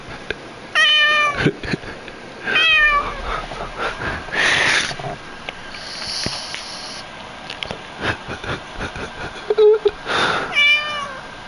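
A cat meows close up in a room, three rising and falling cries spread across several seconds, with quieter rustling and snuffling between them and a few soft background sounds.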